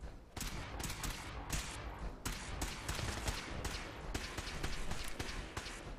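Rapid bursts of gunfire in the video game Fallout 4 crackle in quick succession, loud and continuous, with sharp shots piling over one another.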